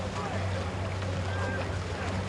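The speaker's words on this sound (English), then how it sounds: "As a big gust of wind blows into the commentary box." A strong gust of wind buffets the microphone in a commentary box above a rowing race at Henley, a steady low roar that rumbles throughout while the scene drifts on.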